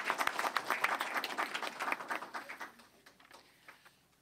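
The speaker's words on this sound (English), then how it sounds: "applause" Applause at a school board meeting: a modest room of people claps briskly, heard fairly faint and distant, with the patter thinning out and fading to scattered final claps over about four seconds.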